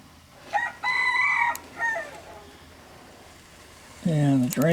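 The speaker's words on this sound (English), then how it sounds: "Bob, you are a noisy bird." A rooster crows twice nearby, loud and drawn out, with quiet background noise between the calls.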